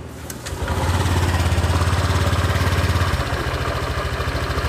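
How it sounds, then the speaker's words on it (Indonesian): A motorcycle engine with an abnormal snoring noise starts up and settles into a loud, close, steady idle with a pulsing low rumble, sounding alone. "Nah sekarang kita coba hidupin mesinnya ya."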